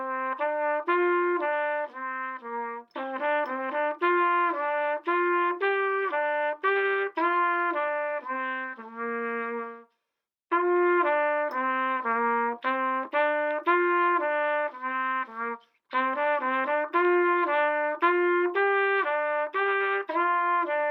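Trumpet plays the moderato melody Morning in 3/4, a steady sequence of clear sustained and slurred notes with two brief pauses, loud and close, alone without talk.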